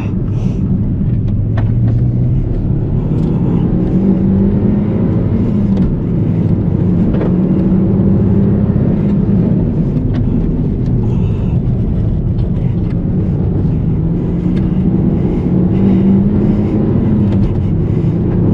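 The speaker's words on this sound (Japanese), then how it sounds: "ちょっと今、ちょっと車も温めてます" A Suzuki Swift Sport car engine warms up at a steady, low, rumbling idle, holding an even drone throughout with no voices.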